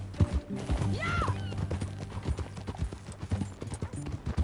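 Horse hooves clip-clopping in Red Dead Redemption 2, a steady rhythm of close hoof strikes over a low music bed, with a brief whinny-like call near the start.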